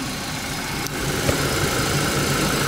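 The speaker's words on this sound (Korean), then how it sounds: "엔진 소리 되게 좋다." A Kia Cerato with a 1.6 Gamma engine and manual transmission idles steadily, a close, even mechanical hum with a faint rhythmic tick, heard alone.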